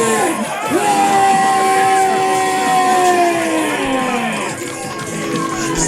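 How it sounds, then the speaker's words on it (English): A crowd on its feet at a live gaming event cheers, whoops and yells in a loud, continuous roar with shouting voices layered on top throughout. "The crowd on their feet for 8-Bit Lit."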